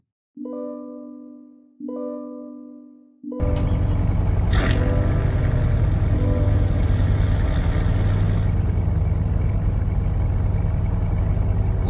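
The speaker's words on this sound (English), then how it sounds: "let's look at the startup or listen to it" A car engine starting in the Roblox game Greenville: two droning starter cranks, then the engine catches and settles into a loud, steady low idle that continues to the end.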